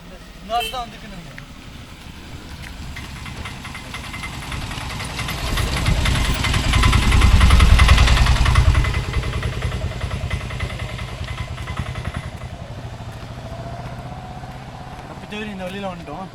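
A rattling auto rickshaw engine drones steadily nearby, swelling louder midway as it passes, with voices faintly underneath.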